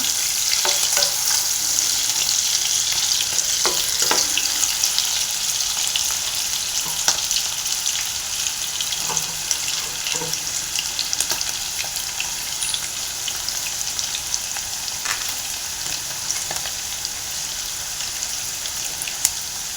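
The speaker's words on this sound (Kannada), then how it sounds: "ಇದು ಚೆನ್ನಾಗಿ ಫ್ರೈ ಆಗಬೇಕು ಗೋಲ್ಡನ್ ಬ್ರೌನ್ ಬರಬೇಕು ಅಲ್ಲಿವರೆಗೂ ಇದನ್ನು ಫ್ರೈ ಮಾಡಬೇಕಾಗುತ್ತೆ" Cashews sizzle steadily in hot oil in a pan as they fry toward golden brown, a dense continuous crackle with occasional stirring clinks, close and alone with no voices.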